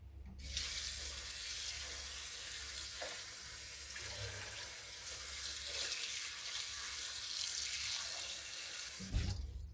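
Tap water runs steadily into a pot of chestnuts, a continuous hissing splash that starts abruptly and cuts off at the end.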